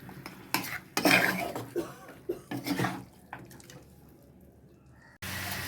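Chicken in a handi pot is stirred and sautéed, with scraping spoon clatters and soft sizzling in bursts, then a quieter stretch before a sudden steady hiss at the end.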